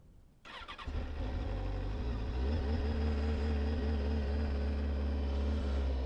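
Vehicle engine cranking briefly at the ignition, then catching and settling into a loud, steady idle that runs on without pause, close to the microphone.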